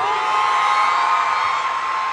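Concert crowd at Araneta arena roaring with sustained cheers and whoops, a dense, steady wall of voices filling the whole stretch without a break.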